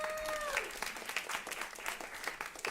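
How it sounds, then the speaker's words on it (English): A conference audience at a food-systems summit claps for itself, steady mid-sized applause rising after a brief voice at the start and continuing with irregular, lively claps. "So give yourselves a round of applause for coming."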